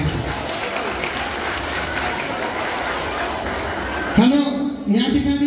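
An audience at a film promotion event gives sustained applause for the film team, a steady wash of clapping that runs for several seconds before a voice starts speaking over it near the end.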